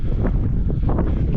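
Strong wind buffets the microphone outdoors during a strenuous climb, a steady loud rumbling roar with gusty rustling throughout.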